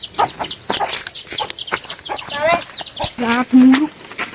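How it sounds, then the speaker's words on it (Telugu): Chicks and hens in a hillside village yard, clucking and peeping in short repeated bursts close by, with some brief chirps and a louder run of clucks toward the end. "ఇదిగోండి ఎక్కడ కొన్ని కోడి పిల్లలు అయితే ఉన్నాయి"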